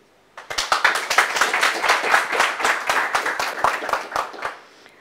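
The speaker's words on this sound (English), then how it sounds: "Big round of applause for Maggie." Audience at a firmware conference, OSFC 2018, claps for speaker Maggie Jauregui: a burst of close, dense clapping that starts abruptly, holds steady, then thins out and fades near the end.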